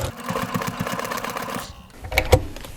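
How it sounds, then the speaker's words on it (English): A Baby Lock Accomplish sewing machine stitches in a steady rapid mechanical chatter up close, then stops with a few clunks and clicks. "So let's just stitch around."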